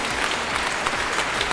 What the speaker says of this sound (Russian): Аплодисменты, аплодисменты нашей второй вице-мисс